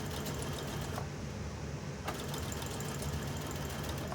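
A sewing machine runs a continuous whirring stitch along the edge of a Christmas table runner while the bobbin thread runs low, easing off briefly near the start before running steadily again.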